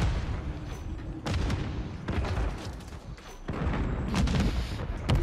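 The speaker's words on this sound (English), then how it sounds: "they're just throwing grenades" Grenade explosions in a team deathmatch shooter game, heard as repeated heavy booming blasts with rumbling tails, several in quick succession over about five seconds.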